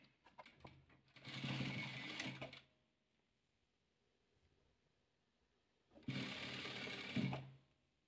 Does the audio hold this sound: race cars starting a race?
no